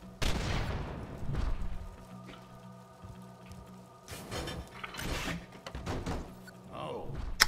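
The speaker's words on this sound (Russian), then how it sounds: "Просто выстрели в замок." Several sharp gunshot blasts fired at a rusted lock in Borderlands 2, one early and a cluster later, each followed by clanking and rattling debris amid game sound effects.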